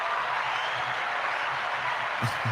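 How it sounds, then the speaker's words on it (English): Audience applause at a talk show, a steady dense wash of clapping that holds evenly throughout, fairly distant, with a couple of brief louder bursts near the end. "Let's give her a round of applause."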